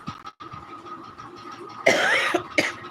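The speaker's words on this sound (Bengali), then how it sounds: "আমার একটু হালকা কাশি কাশি হয়েছে" Two short, rough coughs close to the microphone near the end, over a low steady hum.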